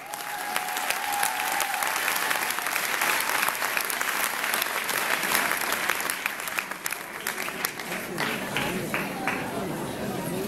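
Audience applause at a Flemish song gala on stage, a dense, steady wall of clapping that fills the whole stretch, loud and close, with faint crowd murmur mixed in.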